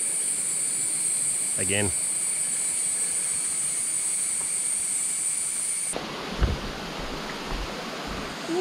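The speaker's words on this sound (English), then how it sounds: "Hear the sounds of the jungle and the water" Steady insect and cricket buzzing fills the jungle around Erawan Waterfall in Kanchanaburi, with a continuous wash of flowing water underneath, a brief chirping call early on and a short spoken word near the end.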